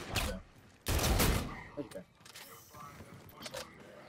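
Pistol fire from a zombies mode in Infinite Warfare, with a sharp report at the start and a heavy burst around the first second, then scattered smaller shots and clatter while players chat in the background.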